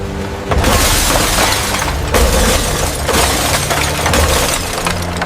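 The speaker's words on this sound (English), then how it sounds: "The sound of metal hitting and glass breaking." Loud crashing impacts of metal and shattering glass in a collapsing underground bunker, with repeated heavy bursts of breaking debris that fill the space and keep rumbling between hits.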